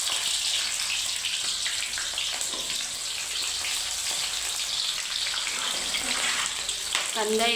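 Bay leaf and thinly sliced onion go into very hot oil for a spicy chicken dish and fry with a loud, continuous sizzle and crackle, rising to a brighter spitting burst near the end.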